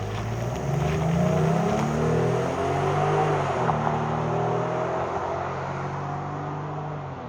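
2023 Jeep Grand Cherokee driving normally, a steady engine hum and road rumble heard from inside, shifting pitch slightly as it accelerates and then settling, without talk.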